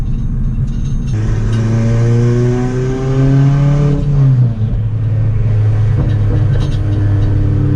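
A deep, loud straight-piped exhaust on a turbocharged Honda Civic rumbles at idle, then the engine revs up in a rising sweep before dropping back to a throaty burble.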